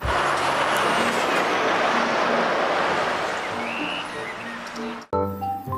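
A toy tow truck gives off a loud, steady rushing hiss with a rumbling undertone for about five seconds, then cuts off abruptly before someone starts talking.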